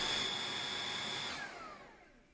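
A Xiaomi G10 cordless vacuum cleaner runs with a loud high whine, then cuts out on its own with a fault error, its pitch falling as the motor spins down. No one speaks.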